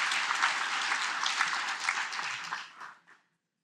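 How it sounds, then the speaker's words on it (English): An audience at a scholarship banquet breaks into dense, sustained applause that holds steady for about three seconds, then tapers off and falls to silence. "another round of applause for Mary and the work that she's done"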